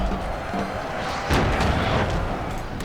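Cannon artillery fire in the Napoleon: Total War battle game, a steady roar of distant booming shots with one louder burst partway through, continuous battle din throughout.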